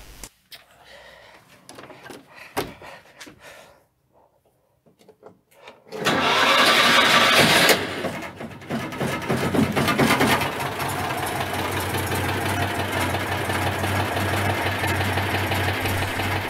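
A car engine at an automobile show in Mornant cranks and catches after a few quiet seconds, then revs loudly and settles into a steady, close rumble that holds to the end.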